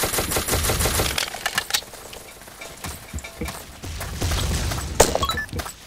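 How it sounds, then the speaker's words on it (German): Gunshots fired into the air in Ace of Spades, a burst of quick cracking shots at the start followed by scattered single reports and another cluster later, close and fairly loud with no talking. "Ich schieße in die Luft."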